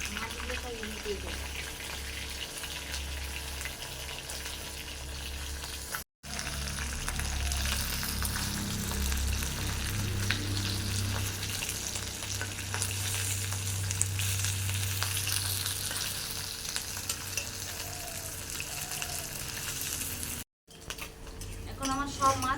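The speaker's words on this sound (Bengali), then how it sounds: "এখন তরোয়াল মাছগুলো ভেজে নেব।" Ribbonfish frying in hot mustard oil, a steady loud sizzle running the whole way with occasional utensil clinks and scraping of a pan, broken by two brief silent gaps; a voice is heard in the kitchen at moments.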